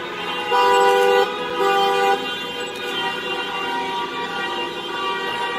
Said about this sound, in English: documenting the cars that I can, and these horn sounds